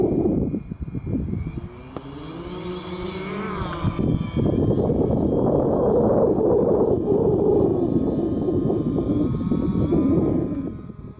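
A quadcopter drone carrying a smartphone taped between foam lifts off and flies, its rotor whine rising and then holding as a loud, steady buzz over a low rumble.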